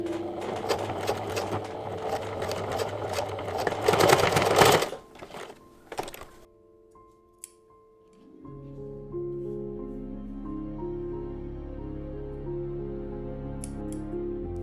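Sewing machine stitching a cutlery roll pouch runs steadily for several seconds, stops briefly with a few handling clicks, then a quieter sustained hum follows, with no talk.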